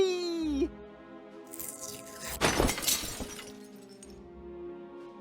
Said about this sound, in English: fly into stained glass windows